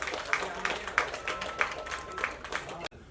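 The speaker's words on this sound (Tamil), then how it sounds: "நல்ல ஒரு கைத்தட்டல் தரலாம் அந்த டீமுக்கு." An audience at a film press meet for a Tamil movie applauds, with moderate, somewhat distant clapping and rhythmic bursts blending into crowd noise before it cuts off abruptly near the end.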